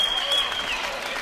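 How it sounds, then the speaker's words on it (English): A college basketball crowd in Helena applauds the team during a timeout, a dense burst of clapping and cheering at moderate distance filling the whole brief moment. "the crowd just gave the team an ovation"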